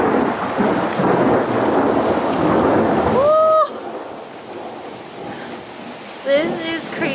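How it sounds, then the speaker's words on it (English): Heavy rain pours down loudly as thunder rumbles through a severe storm with giant hail, a dense roar for most of the stretch before easing to a softer wash; brief voices break in near the middle and end. "it is now hail, like giant hail"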